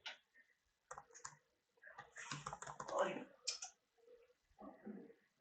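Fingers tap on a computer keyboard while coding JavaScript, producing quiet, irregular clicking keystrokes mixed with a low, faint voice nearby.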